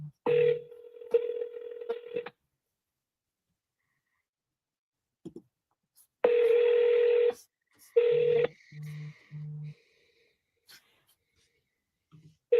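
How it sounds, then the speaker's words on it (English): Placing a phone call: touch-tone keypad beeps sound as a number is dialled, then a ringback tone repeats in steady pulses, with short silent gaps between each ring. "All right, let me call this guy."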